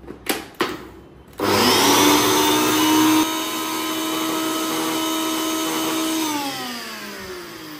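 A few knocks come first, then a blender roars to life whipping eggs for mayonnaise, its loud motor whine holding steady before easing to a slightly lower pitch as it runs on.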